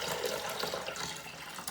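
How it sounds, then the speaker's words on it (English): Water pours steadily into a portable steam sauna tub, a soft continuous splashing and gurgling wash heard close and alone, fairly quiet throughout. "So I'm just gonna put the water in right now."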